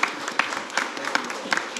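Audience applause at the close of an interfaith debate between believers and atheists, a steady wash of many hands clapping with no pauses, moderately loud and filling the room.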